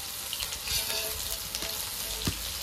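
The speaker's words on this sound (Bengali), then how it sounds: "এরপরে ভালো করে নেড়ে চেড়ে সোয়াবিনটাকে সুন্দরভাবে ভেজে নেব" Soybean chunks frying in a pan with salt and turmeric, stirred with a spatula; a steady close sizzle runs throughout, broken by a few sharp scraping knocks of the utensil against the pan.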